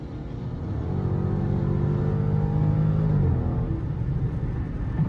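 A Dodge Hellcat accelerates in traffic, a loud deep engine rumble that builds, holds with a steady droning pitch, then drops slightly as the revs shift, close and alone.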